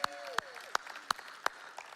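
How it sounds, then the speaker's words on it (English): Applause from a church audience comes as a handful of sharp, evenly spaced claps, about five in two seconds, fairly close and distinct rather than a dense wash, with a faint voice briefly underneath. "You're getting a lot of applause."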